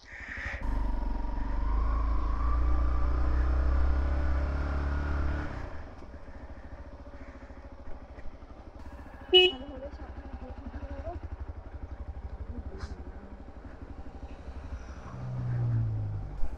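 Overloaded motorbike riding along a mountain road in Sikkim, engine droning loudly then dropping to a lower idle rumble with scattered clatters and a brief rising rev, under occasional talk.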